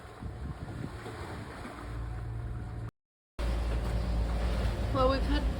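Ocean waves wash around a sailboat on passage from Fiji to New Zealand, a steady rushing surge with wind buffeting the microphone, broken by a brief dropout.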